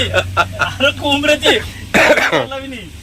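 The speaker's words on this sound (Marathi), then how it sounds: "जामच खोकला आलाय" A person talks, then gives a short rough cough partway through, close to the listener, with talking resuming right after.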